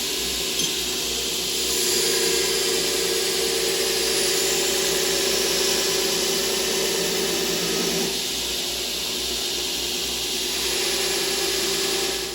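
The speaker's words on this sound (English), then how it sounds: "We're gonna take our 36 grit scratches away with a nice clean 120 grit belt" A belt grinder running a 120 grit belt across a knife blade during finish sanding, giving a loud, steady abrasive roar with a constant motor hum that swells and eases as the blade is worked, with no voices.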